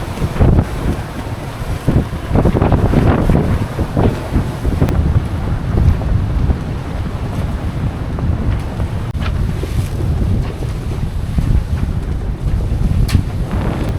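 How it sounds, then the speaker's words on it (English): Strong wind buffets the microphone as a yacht sails through higher winds off Turkey, a steady roaring gust noise with water rushing against the hull, loud and continuous throughout. "Good for us to get used to sailing in some higher winds, but it's hectic."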